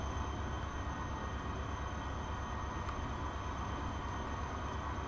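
Diesel trains race in the Transport Fever game, giving a steady, even rumble of rolling rail noise with a faint high whine running throughout and no voices.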